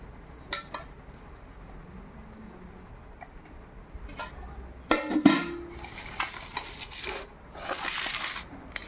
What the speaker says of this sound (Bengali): ভাতটা বেড়ে দিই